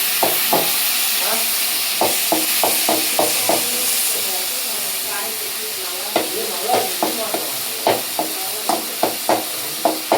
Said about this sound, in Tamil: தக்காளி வெங்காயத்தை நல்லா கிண்டிக்கணும்.